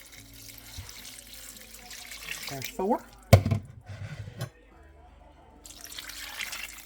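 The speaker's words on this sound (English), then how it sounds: "And 6 cups of water." Water is poured into a crockpot while cooking, with a sink-like rush and splash in the middle of the clip between short spoken remarks.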